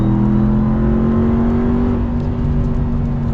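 A 2022 Ram 1500 TRX pickup on aftermarket 22-inch wheels and tires accelerating, a steady low engine drone with rising tones and tire hum, continuous and fairly loud from inside the cab.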